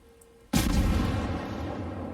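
A loud, sudden battleship gun salvo in the naval video game World of Warships, one sharp, heavy boom that decays into a long rumbling tail, with no talking.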